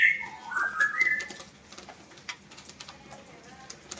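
A caged murai batu, a white-rumped shama, gives a short clear whistled call up close at the start, followed by fainter chirps and clicks against quiet background noise.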